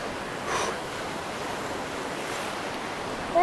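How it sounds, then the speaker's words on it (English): Rough, choppy sea water churns and surges steadily at a fishing pier where the Gulf meets the bay, a continuous wash of waves with a brief louder splash early on. "This is crazy how rough this water is right here."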